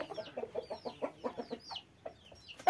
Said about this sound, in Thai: วันนี้ผมจะพามาดูฟาร์มไก่ชนหลายตัวนะครับ